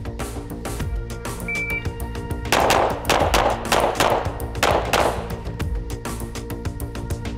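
Glock pistol shots at a practice range, a rapid series of about six loud sharp cracks clustered in the middle, with quieter background noise before and after.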